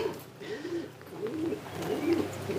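High-flying competition pigeons coo softly in a steady, rolling murmur, several low throaty calls overlapping close by with no talking.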